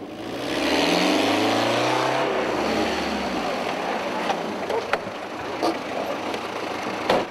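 Engine of a vehicle rammed during an anti-poaching stop by hunting police and gendarmes, idling with a steady low rumble that swells early and stays loud, with a few sharp knocks and clatters toward the end.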